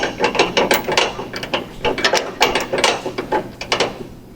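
A ratchet tightening a bolt on a Jeep in a cramped engine bay, giving quick bursts of sharp clicking pawl strokes in an uneven rhythm, close and fairly loud, with no voices.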